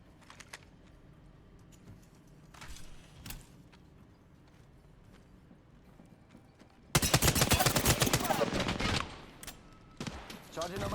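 Rapid, loud gunfire from a first-person shooter match of Apex Legends, a dense automatic burst erupting after quieter shuffling and scattered sounds, followed by a few more shots near the end.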